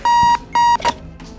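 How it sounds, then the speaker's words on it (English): The alarm clock in the bomb-defusal game Keep Talking and Nobody Explodes beeps loudly in two sharp, sustained electronic tones followed by a shorter third beep. "Stupid alarm."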